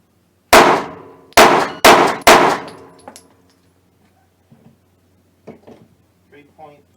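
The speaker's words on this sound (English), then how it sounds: "4 shots on target. 9mm." Four 9mm pistol shots are fired in quick succession at a target on an outdoor range, sharp loud cracks with short echoing tails, followed by faint clicks and small handling sounds.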